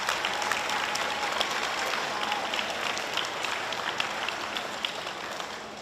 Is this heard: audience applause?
yes